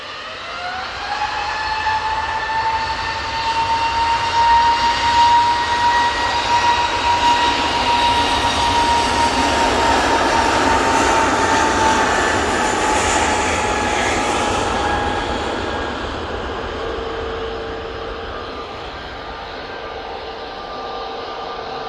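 An aircraft at Manchester Airport passes close and loud, a sustained jet roar with a rising whine that builds, holds for several seconds, then slowly fades as it moves away.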